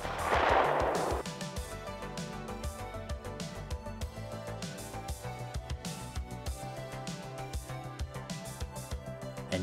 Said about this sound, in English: The last shot we took was with that steel 9mm ammo.